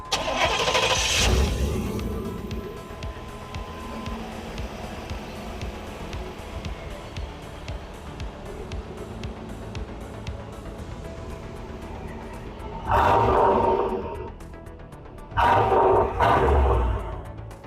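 A car engine cranks and roars to life, settles into a steady idle, then is revved hard twice in loud bursts near the listener.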